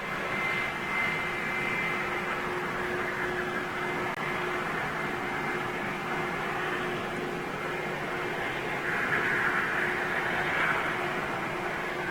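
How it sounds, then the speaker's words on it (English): An Air Europa Airbus A320 jet taxis past at Madrid Barajas airport, a steady, fairly loud engine whine and rushing roar with a constant tone, swelling slightly toward the end, with no talk. "So this Air Europa is going to taxi past us."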